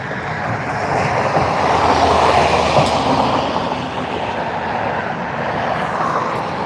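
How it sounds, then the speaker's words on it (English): An American Airlines Boeing 737 MAX 8 jet arriving from Los Angeles gives a loud, steady engine roar that swells slightly and holds throughout, heard alone. "Here, a plane from Los Angeles is coming. It's American Airlines, a Boeing 737 MAX 8."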